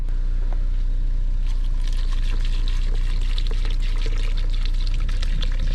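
Clean water poured out in a steady, splashing stream close by, running continuously over a low rumble with no voices.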